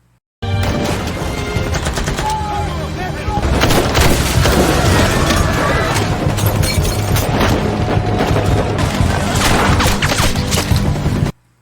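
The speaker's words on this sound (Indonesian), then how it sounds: "Baku tembak pun akhirnya pecah. Peluru, pecahan kaca, dan teriakan histeris memenuhi ruangan." Gunfight from a gangster film, with dense bursts of gunfire, heavy booms and crashes of shattering glass that fill the scene continuously and loudly from start to finish.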